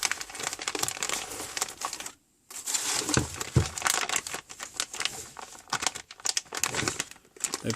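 Backing paper crumpled and crinkled while unboxing a set of Axminster 250mm button jaws, a loud, close, continuous rustle with one brief silent gap, no voices.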